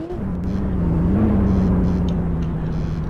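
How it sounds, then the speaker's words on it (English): A vehicle called the Badger drives in a Roblox game, giving off a steady, loud engine whir with a sustained low tone that rises slightly and holds, no one speaking over it. "Oh, the name of the vehicle is Badger. So let me drive this new vehicle."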